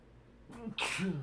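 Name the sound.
sneeze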